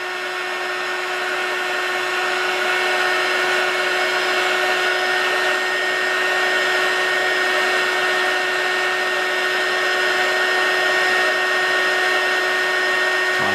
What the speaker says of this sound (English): This is a heat gun, which is commonly used for shrink wrapping, heating components